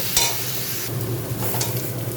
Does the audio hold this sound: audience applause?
no